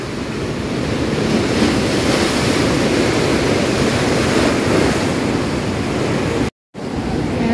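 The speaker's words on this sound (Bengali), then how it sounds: "কালকের থেকে আজকে বেশি সমুদ্র উত্তাল" Rough, churning sea surf crashing steadily onto the beach at Tajpur on a stormy day, a loud continuous roar of breaking waves with wind noise, close and without speech.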